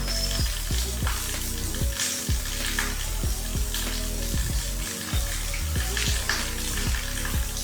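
Okra curry with garam masala and salt sizzles loudly in a pan while being stirred and mixed, a close, continuous frying hiss broken by regular scraping strokes.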